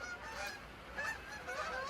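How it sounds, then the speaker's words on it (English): Canada geese honking in autumn in the Northeast, heard over open raw land; several calls repeat in loose bursts at a moderate distance over steady background noise. "You guys hear the Canadian geese."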